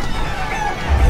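Hens in the video game Blow the Hen Down cluck in a short, close burst of squawky calls over a low background rumble.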